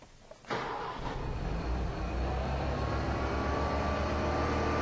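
A gasoline car engine with hydrogen fed into its vacuum intake cranks briefly and catches, then settles into a loud, steady idle rumble close by, with no talking.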